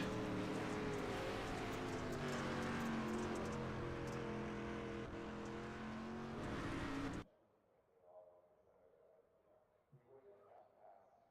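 Race cars in iRacing roll out onto Kokomo Speedway, a sustained loud engine drone that cuts off abruptly partway through, leaving faint scattered noises.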